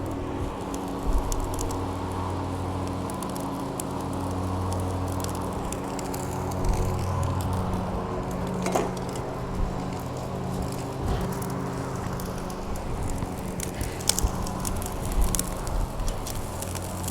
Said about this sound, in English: I'm gonna sear my lamb chops first.